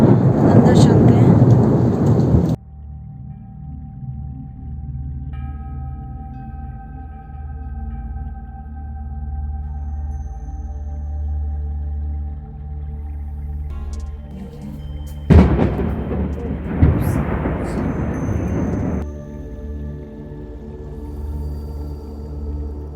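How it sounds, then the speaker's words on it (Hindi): Loud thunder and heavy rain during a stormy spell at the Lakhamandal Shiv temple in the hills, with a strong rumbling burst at the start and another around the middle over steady rainfall. "बिजली कड़क रही है, बहुत वेदर ख़राब है, बारिश भी हो रही है।"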